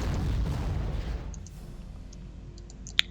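A heavy rumbling artillery barrage from a WWII strategy wargame fades out over the first second and a half, followed by quieter ambience, faint clicks and one sharp pop near the end.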